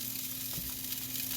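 An ingredient for shrimp scampi risotto cooking in a hot pan, producing a steady, close sizzle and hiss that holds evenly throughout, with a faint low hum underneath.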